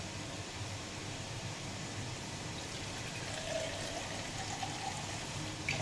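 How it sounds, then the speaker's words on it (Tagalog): Steady rushing water pours continuously into a pan, a broad hissing splash that holds level throughout with no voices. "lalagyan natin siya ng konting tubig"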